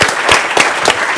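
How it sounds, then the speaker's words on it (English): Brief burst of crowd applause at a Drupal technology conference keynote in Finland, a close, loud wash of many people clapping with no talk over it. "Can I just get a quick round of applause for anybody who actually uses multilingual and does more than one language?"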